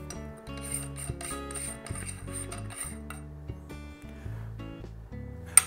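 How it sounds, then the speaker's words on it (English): Metallic lightsaber hilt being twisted, a series of clicky scraping and ratcheting sounds with a sharp snap at the end, close and fairly quiet, no voices. "Why is that making a sound up here when I twist this?"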